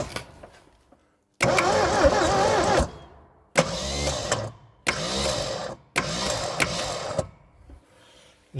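A barn-find Triumph Dolomite 1850 engine cranking on jump leads after 34 years, four loud bursts of churning starter motor separated by pauses, with no catch.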